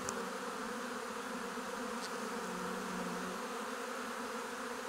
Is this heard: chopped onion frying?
no